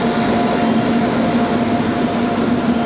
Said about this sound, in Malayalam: ഇതാണ് കണ്ണൂർ യശ്വന്ത്പൂർ എക്സ്പ്രസ്